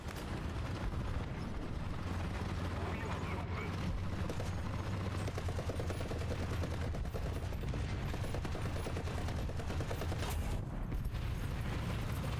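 Tank cannons and machine-gun fire roar in a War Thunder battle, a dense, continuous wall of gunfire and explosions that stays loud and busy throughout without clear gaps.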